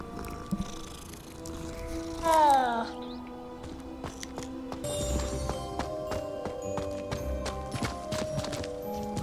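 A cat purrs steadily beneath layered game music and sound effects, with a brief louder chirp partway through.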